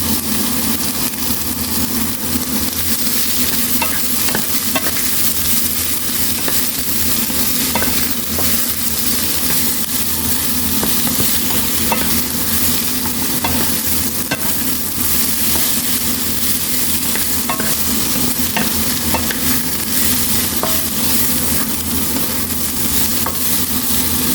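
Chicken breast stir-fried with celery and red capsicum in a pan, giving a steady, loud sizzle with frequent scraping stirs throughout, no talking.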